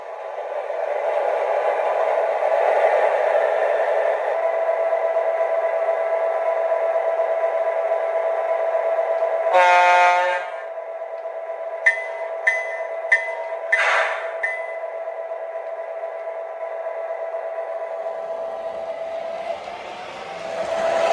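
O gauge model switcher locomotive starting up, a steady electronic engine hum with a loud horn blast near the middle followed by a few short clanks and another horn note, close and clear.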